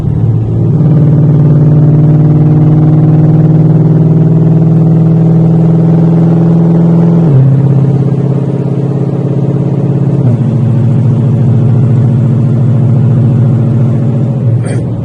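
Loud, close 2020 GT500 exhaust in track mode holding a deep steady rumble, with the pitch stepping down twice as the dual-clutch transmission shifts, no voices.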